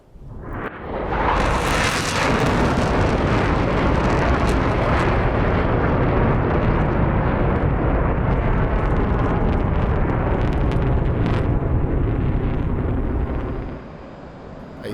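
Fox 1 missile launching in a DCS World dogfight, a loud roaring whoosh that bursts in and holds for over ten seconds before tapering off, broad and rumbling with jet noise beneath.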